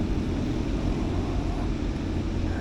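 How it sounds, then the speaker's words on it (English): Traffic on the M1 motorway beside a karting circuit gives a continuous low roar with a broad rushing hiss, steady and unbroken, with no talking. "And that there is the major road there, the M1."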